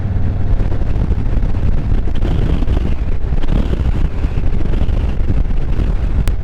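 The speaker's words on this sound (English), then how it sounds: "It's actually pretty windy out here today," Heavy wind buffeting a helmet microphone while riding a Harley-Davidson Road Glide motorcycle, a loud continuous low roar that covers everything else, with no voice heard.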